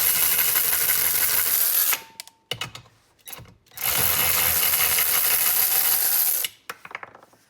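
A Ryobi cordless ratchet spins a hand-tightened nut off in two loud, steady bursts of whirring buzz, broken by brief clicks and clatter in between, then a short rattle as it stops.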